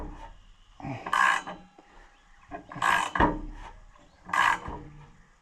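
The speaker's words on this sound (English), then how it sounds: "You can really wrench that down and get it nice and solid." A wrench tightens a 3/8 muffler clamp during evening farm work, giving three separate bursts of ratcheting, rasping metal a second or two apart. Each burst is close and fairly loud, with quieter gaps between them.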